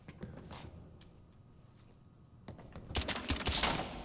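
Gunfire in the video game Fallout 4: soft clicks and low rumble, then a loud burst of rapid shots, close and sharp, during the final second or so.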